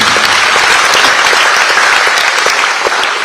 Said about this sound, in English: let us also applaud all the enthusiastic participants of the different competitions